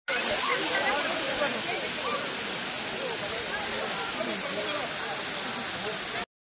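A waterfall at Chikmagalur, India, pours in a dense, unbroken roar of rushing water heard up close, steady and loud from start to finish.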